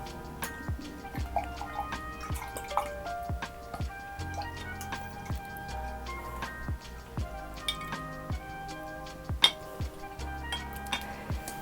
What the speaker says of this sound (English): this is when I'm going to put my paintbrush in my water